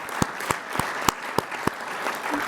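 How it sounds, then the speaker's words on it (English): An audience at an agricultural export conference applauds the panelists. The crowd claps steadily for several seconds, with distinct sharp claps standing out near the listener, and nobody speaks. "Give everybody a round of applause."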